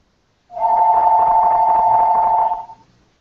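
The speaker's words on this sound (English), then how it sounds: "Phone's ringing." A single electronic telephone ring, a steady tone that starts abruptly, holds for about two seconds, then cuts off, loud and close with no talking.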